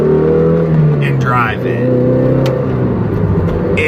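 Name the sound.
Toyota MR2 Spider engine accelerating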